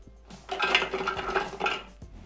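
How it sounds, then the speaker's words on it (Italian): Bread pieces dropped into the metal bowl of a Thermomix TM6 produce a few close, light clattering knocks and scrapes, a couple of soft thumps in a quiet kitchen with no voice. "Iniziamo la ricetta mettendo all'interno del boccale il pane."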